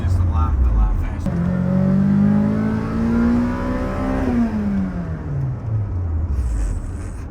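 A 1995 Acura Integra GSR fitted with a JDM Type R transmission revs hard in third gear to 8,000 RPM. The engine note climbs steadily and loudly up close, then drops away as the throttle is released.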